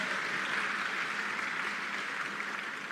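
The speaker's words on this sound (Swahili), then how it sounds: "tuwapigie makofi mengi sana" Applause from an audience at a journalism awards ceremony, a steady dense wash of clapping that holds evenly for the whole stretch without pauses or talk.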